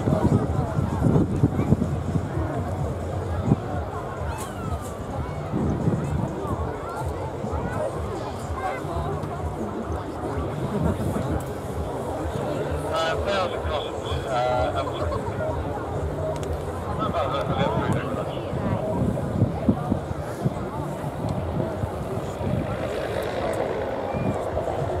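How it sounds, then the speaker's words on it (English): Gusty wind rumbles continuously across the microphone at Biggin Hill airfield during the Festival of Flight air show, a low, uneven roar lasting throughout, with voices talking faintly underneath at times. "It is windy, I'll tell you that."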